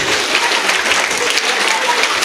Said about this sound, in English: Clap your big hands, please.